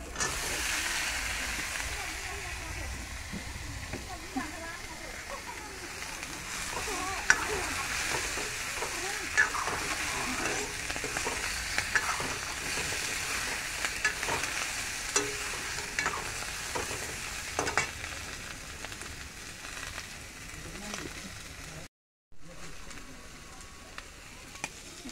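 Cauliflower, potato and kohlrabi sizzle steadily while frying in a pan, with scraping and stirring sounds. The hiss is continuous and close.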